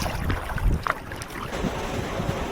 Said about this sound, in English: a big northwest breeze blowing the last few days